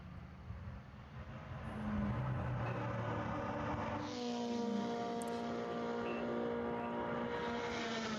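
Race car number 72 is out on track at VIR during a SARRC/MARRS amateur road-racing event. Its engine drones steadily at a distance and rises and falls in pitch as it works through gears and turns, with no voices.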